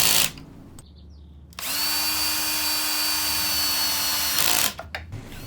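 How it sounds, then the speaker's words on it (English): A power drill drives pocket screws into the sides of a miter saw table with one sustained loud whir of about three seconds, then brief bursts as the screw seats, with quiet shop sounds before it. "and then I'll drive the pocket screws"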